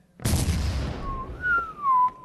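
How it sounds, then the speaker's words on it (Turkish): A loud explosion effect bursts out in the horror video game Psychopath Hunt Revamp, a broad boom that fades into rumble while a high whistling tone rises and wavers afterward. "Harika bir patlama efekti yapmışlar oyuna."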